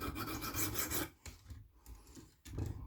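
A blade is sharpened against an abrasive to raise a burr, making close rasping strokes: a long stroke, a softer one, then the start of another.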